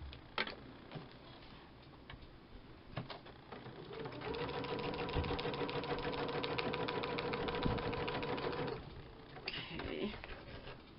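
A sewing machine stitches through a paper book, running in a steady, fast mechanical rattle for several seconds in the middle, with shorter bursts and clicks before and after.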